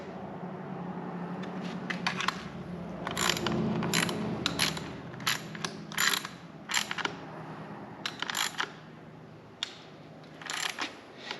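A hand ratchet clicks in short bursts while bolts are tightened down on an engine, with irregular runs of sharp metallic ratcheting spaced between pauses and quieter handling noise underneath.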